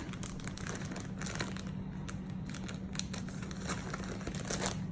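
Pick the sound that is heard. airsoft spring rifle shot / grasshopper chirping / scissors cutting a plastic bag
scissors cutting a plastic bag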